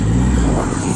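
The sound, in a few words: Triumph Rocket 3 GT motorcycle engine revving on throttle blip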